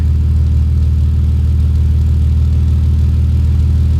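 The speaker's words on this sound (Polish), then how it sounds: "No dobra, teraz jak na wolnych." A BMW E46 330ci race car engine idles steadily and loudly, with a deep, even, lumpy rumble throughout and no talking.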